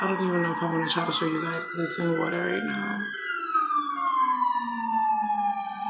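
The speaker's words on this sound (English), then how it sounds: "Excuse the sirens." A wailing siren rises and falls outside, partly under someone talking at first, then heard alone and fairly loud.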